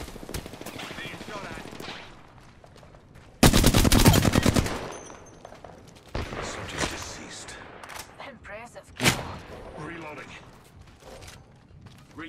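Automatic gunfire in the Apex Legends battle royale game, bursts of rapid shots with one loud dense volley standing out, mixed with game voice lines and other effects.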